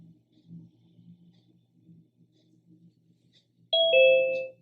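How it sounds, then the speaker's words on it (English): A two-note electronic chime from a Zoom waiting room arrival rings out clearly at the end, following a stretch of faint low background murmur. "when somebody arrives in the waiting room, you'll get that buzzer"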